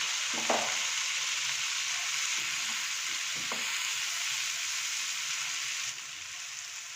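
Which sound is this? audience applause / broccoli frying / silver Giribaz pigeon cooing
broccoli frying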